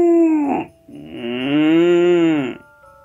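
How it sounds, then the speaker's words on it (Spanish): Cows lowing, two close, loud moos: a short one followed after a brief pause by a longer, drawn-out call that wavers in pitch before stopping. "y parece que las vacas vinieron."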